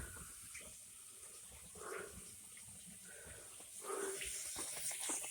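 Water running steadily from a newly installed bathroom sink faucet, a soft continuous hiss and trickle that swells slightly toward the end, heard close and fairly faint.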